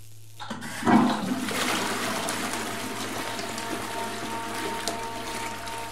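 A toilet flushes inside the horror game Silent Hill: Downpour, starting with a click, then a loud rushing gush that settles into steady draining water under a low hum, with no talk.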